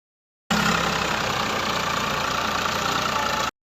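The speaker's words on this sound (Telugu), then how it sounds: "ఇక్కడ మనకు ఈ వీడియోలో కనిపిస్తుంది కదా ఈ ట్రాక్టర్." A Sonalika tractor engine idles steadily and loudly up close, a continuous rough diesel rumble that starts abruptly and cuts off after about three seconds.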